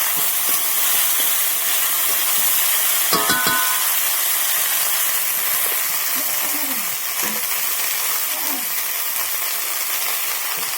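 Chopped vegetables sizzle steadily in a hot pan for a home-style curry and fry, with a continuous loud hiss broken by occasional scraping stirs of a spatula.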